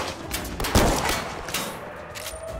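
Sharp rifle shots crack out from a sniper rifle in the VR shooter Zero Caliber, a few loud distinct reports followed by quieter ringing tails, with no talking over them.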